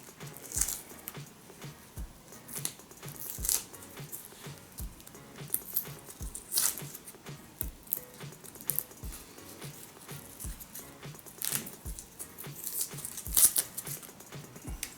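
Salted dry-cured fish being cleaned by hand gives soft, irregular squishy patters and crinkly pulls, close and fairly quiet throughout, with no talking.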